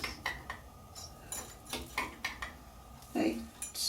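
Sugar is sieved by the tablespoon into a bowl for a lemon meringue pie, with a spoon clinking and scraping irregularly against a metal sieve in short, bright taps.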